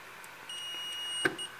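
A multimeter in continuity mode gives one short, clear beep while probing a coil on an Asus X450LC laptop motherboard, heard alone against a quiet background with faint electronic tones.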